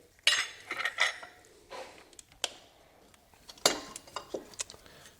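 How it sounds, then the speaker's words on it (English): A metal wrench clinks and ratchets against the idler pulley bolt of a 2006 Chevy Impala engine, making a series of sharp, close metallic taps and clicks at an irregular pace. "So I've got my wrench on there, and I'm simply going to loosen up"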